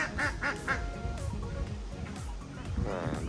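Ducks quack in a few short bursts near the start and again at the end, mixed with someone talking and outdoor background noise at a cafe farm with geese and chickens.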